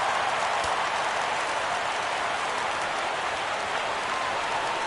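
Crowd applause in a baseball video game plays as a dense, steady wash of clapping and cheering that holds at an even level for several seconds.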